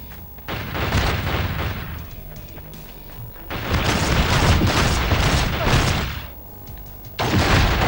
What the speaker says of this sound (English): I think someone's shooting me with a rifle.